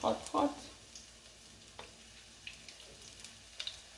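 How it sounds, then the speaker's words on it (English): Jamaican-style fritters fry in a hot pot over low heat, a soft, steady sizzle close by. A couple of brief louder bursts open the clip, then the sizzle settles into a quiet hiss with faint ticks. "Fry on low heat. so they don't burn."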